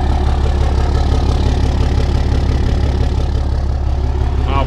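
A 2014 Dodge Ram 3500 pickup's diesel engine idles steadily up close, a loud, even low rumble with a fine rapid pulse that holds unchanged throughout.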